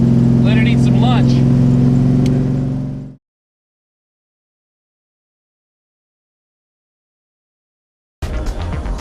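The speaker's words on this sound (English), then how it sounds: "So this is a 502 cubic inch GM crate motor that you buy from the dealer." A 1970 Chevelle SS with a 502 cubic inch GM crate V8 produces a steady, deep engine drone beneath a voice for about three seconds. It then fades into silence, and a short, loud burst of noise follows at the end.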